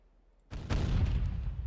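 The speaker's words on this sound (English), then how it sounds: "Look at these salvos that the TRIOWA fires." A battleship's 18-inch main guns fire a salvo in the NavalArt game, a sudden loud boom rising out of near silence and rolling on as a heavy, sustained roar.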